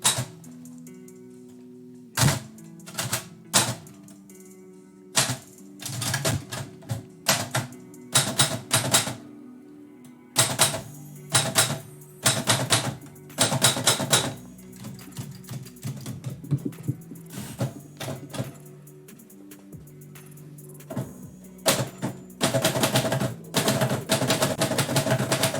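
Typewriter keys striking in quick bursts with pauses between, sharp close clacks and occasional carriage or bell sounds, a poet testing a machine they also repair while typing out haikus.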